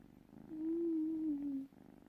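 A cat purrs close by in a brief, steady burst of about a second, soft and low with no talking over it.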